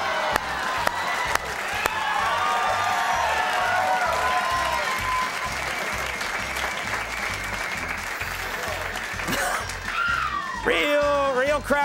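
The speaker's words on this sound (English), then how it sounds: "Give him a hand." Studio audience at a late-night TV comedy show applauding and cheering for a college mascot, loud sustained clapping with whoops, fading near the end as voices rise.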